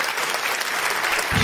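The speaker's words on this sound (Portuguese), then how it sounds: "Mais aplausos." A live comedy show audience claps loudly and continuously, a dense wash of applause throughout with a low rumble of crowd noise swelling at the end.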